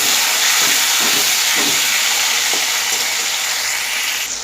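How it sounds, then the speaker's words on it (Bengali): Tomato frying in hot oil with potatoes and green banana for a Bengali fish curry, a loud, steady hiss of sizzling close up, with a few dull stirring knocks near the start. "এবার টমেটো দিয়ে দিলাম টমেটো দিয়ে এর সঙ্গে একটু নাড়িয়ে নেব"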